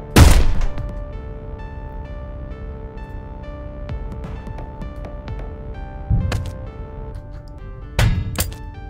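A gunshot blows a hole in a ship's hull in Heat Signature: a heavy thunk opens the clip and rings into a long metallic hum, and two more sharp impacts land near the end.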